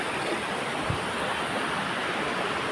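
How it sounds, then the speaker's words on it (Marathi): Zenith waterfall on a monsoon trek roars as a dense, steady broadband rush of falling water, loud and continuous with no break. "हा बघा हा वॉटरफॉल"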